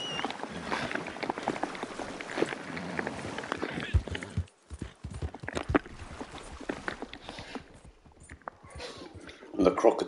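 A horse gallops in the Red Dead Redemption video game, with a quick, repeated rhythm of hoofbeats that carries on for several seconds before a brief pause. Voices talk over it.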